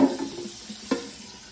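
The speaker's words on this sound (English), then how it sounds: "we're going to refill our reservoir all the way to the top with some tap water" Tap water runs into a Keurig coffee maker's reservoir with a soft, splashing trickle, close by and fading to a quiet hiss, with a small splash partway through.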